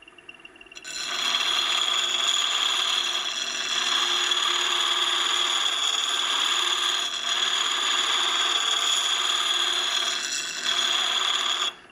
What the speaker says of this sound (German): Und ich schleife natürlich das Werkzeug nur in dem Bereich, den ich benötige.